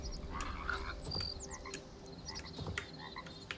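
Repeated frog croaks in the Hytale game world, chirpy ribbits over a low ambient game backdrop, moderately close and steady throughout.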